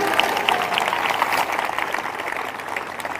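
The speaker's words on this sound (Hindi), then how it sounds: "ताली बजाकर धन्यवाद करें।" A church congregation claps together during a prayer service, producing a steady patter of applause that fades slightly toward the end, with no clear talk over it.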